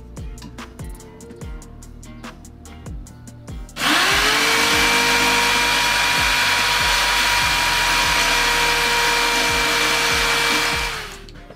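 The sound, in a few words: power tool cutting a ladder in a 4x4 camper truck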